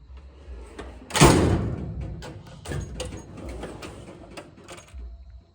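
A drawer on a metal Harbor Freight tool box slides with a loud, close rolling rush and clunk, followed by lighter metallic rattles and clicks.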